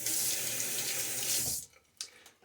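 Tap water runs steadily into a sink while shaving soap lather is rinsed off, a loud continuous splash lasting about one and a half seconds, then stopping, followed by a few faint handling clicks.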